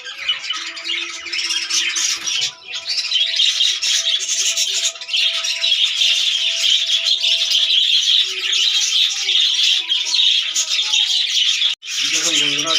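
Budgerigars gathered together in one cage chirp and squawk continuously in a dense, loud chorus close by, with a rustle near the end.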